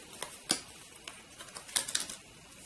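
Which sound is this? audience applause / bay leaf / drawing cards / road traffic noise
drawing cards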